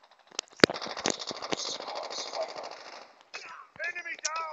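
Automatic gunfire from the mobile shooter game Call of Duty Mobile, with rapid close bursts of rattling shots and a few sharp single reports, followed by chirpy game effects and a voice speaking briefly over them.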